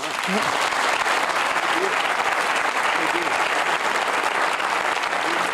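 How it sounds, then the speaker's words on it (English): Studio audience applause at the close of a televised Q&A panel discussion, a dense, steady wash of clapping from many hands that stays loud and even throughout, with no talk over it. "Now you can applaud."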